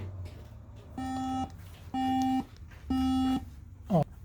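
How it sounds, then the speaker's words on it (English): An iMac powered on after a RAM upgrade gives three evenly spaced electronic beeps about a second apart, clear and fairly loud, followed by a brief rising sweep at the end. "the computer keeps beeping"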